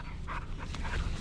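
A dog panting in quick, close bursts while playing on a walk, over steady outdoor background noise.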